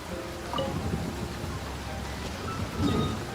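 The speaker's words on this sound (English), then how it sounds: "It does actually rain in the desert on occasion. And when it does, it's always a lot heavier than this." Steady heavy rain hisses in a Genshin Impact desert scene, with low rumbling thunder swelling near the start and again near the end.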